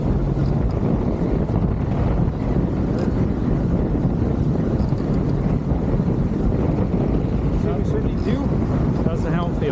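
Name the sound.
strong wind while sailing a Schionning catamaran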